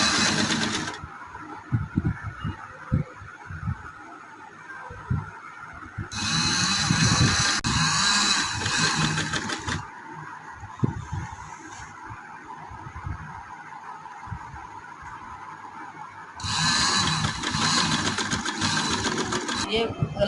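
A sewing machine stitching a neck design on a suit runs in loud rapid bursts, a short one at the start and two longer runs, with someone talking in the quieter gaps between them.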